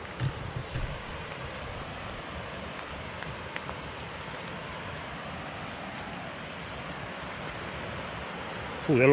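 Steady rushing flow of a river near a remote bush hut in New Zealand, a constant broadband wash without pauses, fairly close and unbroken for several seconds.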